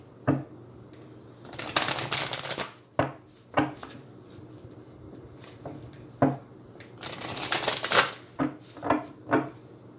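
Oracle cards being handled during a mermaid-themed oracle reading, heard as dry papery riffles and crisp taps in bursts, with a couple of longer shuffling runs between sharp single card slaps, close and fairly quiet with no talking.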